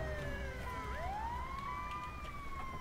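An emergency vehicle siren from the video game GTA V wails steadily, sweeping and rising in pitch over a constant engine rumble, loud and continuous with no talking.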